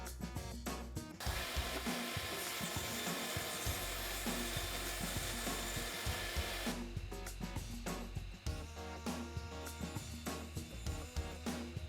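A power saw cuts steadily through wood to trim a wooden keyboard wrist rest, with a loud continuous whine for several seconds between shorter bursts of cutting and handling noise.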